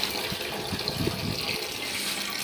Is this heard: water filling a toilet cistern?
yes